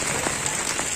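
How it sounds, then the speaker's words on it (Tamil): Heavy, continuous rain pours down on Tirunelveli town during the 2023 flood, a steady dense hiss of downpour hitting surfaces with no break throughout. "After 12 hours of continuous raining."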